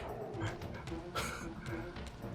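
A dog yelps and whimpers after being kicked in the Soul Reaver 2 game, a few short, sharp cries over a busy, constant game soundscape.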